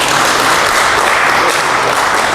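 Dense applause from an audience at a podcast-style leadership talk, a steady loud wash of clapping throughout with no voices on top.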